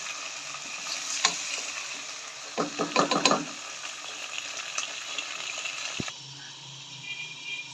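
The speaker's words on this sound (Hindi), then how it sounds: "इस लहसुन और प्याज के साथ मैं चिकन को फ्राई करूँगी" Chicken fries with garlic and onion in a pan, a moderate sizzling hiss broken by several sharp clattering stirs of a utensil near the middle, then quieter steady frying.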